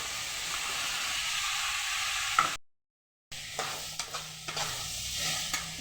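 Peanuts and vegetables fry in a pan for a groundnut vegetable kurma, a steady close sizzle, then after a brief silent gap, the frying resumes with intermittent scraping clatters as a spoon stirs the pan.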